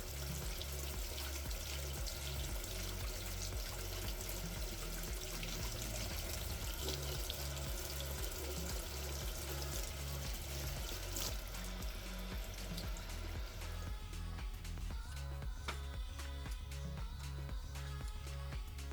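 Running tap water rinses the white layer off a Polaroid SX-70 print, a steady close splashing flow with faint trickles, briefly easing toward the end.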